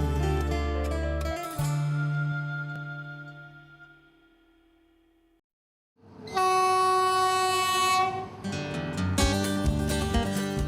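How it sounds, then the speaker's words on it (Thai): A train horn blasts in long sustained tones as the train departs the platform, fades to near silence, then sounds again loudly with layered pitches as the train rolls off. "ขบวนรถไฟเริ่มออกจากชันชลา"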